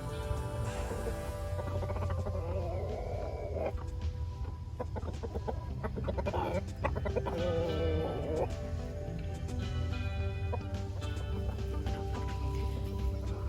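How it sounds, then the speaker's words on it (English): Backyard chickens cluck and call steadily after being let out of their coop following a storm, with a rooster-like crow, under continuous background noise and some talking. "So I'll let the chickens out."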